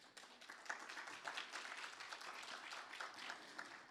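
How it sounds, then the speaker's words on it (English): Conference audience claps for panelists introduced at a discussion on investment in Africa, a sustained even round of applause, fairly quiet and distant, with no voices over it. "can we give them a hand of applause?"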